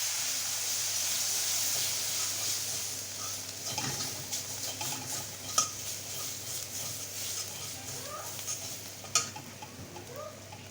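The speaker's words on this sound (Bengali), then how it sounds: "আদা রসুন বাটা মশলা ভালোভাবে কষিয়ে নেবে" Ginger-garlic paste and spices fry in a pan with a low, continuous sizzle, broken by occasional scraping stirs and small pops.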